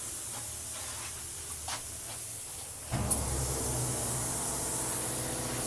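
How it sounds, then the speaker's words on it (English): A disinfectant sanitization tunnel bursts into a steady hiss as its eight nozzles start spraying fog. Soft handling noises come first, then a sudden sustained spray that continues to the end. "Once you enter it, the fog will start."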